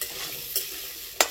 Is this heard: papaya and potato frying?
yes